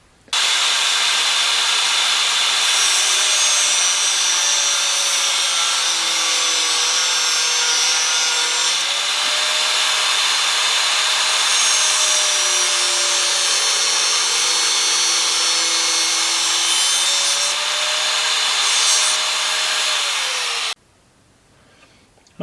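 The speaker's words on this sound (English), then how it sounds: "right around here we're going to cut a groove right in there" A power tool grinds a groove into a steel bolt for a 1999 Harley-Davidson FXST lowering job, a loud continuous high whine with slight pitch wavering that runs for about twenty seconds before cutting off abruptly.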